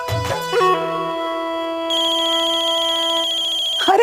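A telephone rings close by with a bright, sustained electronic tone that shifts pitch partway through. There is no talking over it.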